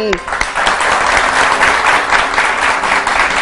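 A studio audience claps through a talk show segment, loud and continuous across a few seconds, with voices faintly mixed in under the applause.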